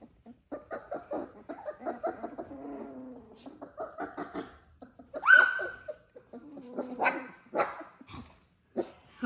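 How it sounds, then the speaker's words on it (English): Small, high-pitched whimpers and squeaks from young doodle puppies, scattered and close by, with brief yips rising above soft rustling. "Their little puppy sounds."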